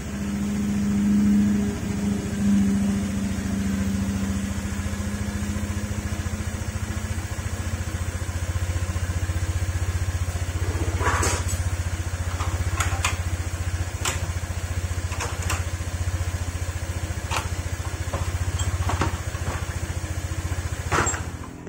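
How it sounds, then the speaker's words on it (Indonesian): A Honda Vario motorcycle engine runs at a high idle while warming up, giving a steady, close, unbroken hum with a few sharp clicks later on. "Ini lagi tinggi gasnya, kita tunggu dulu mesin agak panas"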